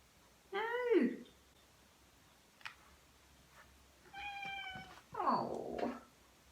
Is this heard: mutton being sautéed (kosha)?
no